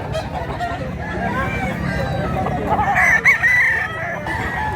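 An old rooster crows loudly and close by, its long call rising clearly above steady farmyard background noise.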